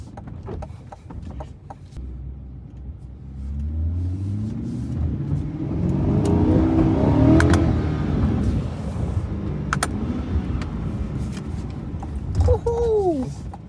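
A car rolls down into an underground parking garage, its engine rumbling steadily and swelling in the middle as it drives on, with a short tire squeal near the end and people talking over it.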